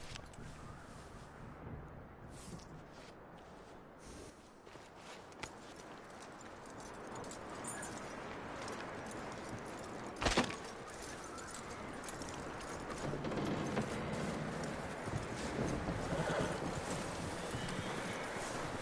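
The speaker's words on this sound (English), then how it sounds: "That looks like a decent horse." Horse hooves clip-clop steadily in Red Dead Redemption, with a whinny partway through, set against continuous ambient game sound and no talk over the hoofbeats.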